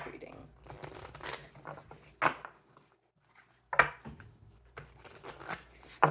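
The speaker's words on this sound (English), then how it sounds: "This deck's so new, I have to use my knuckles to shuffle it." A brand-new, stiff tarot deck being shuffled in repeated riffling, papery bursts with sharp snaps, while a person talks nearby.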